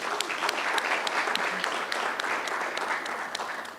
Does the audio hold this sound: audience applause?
yes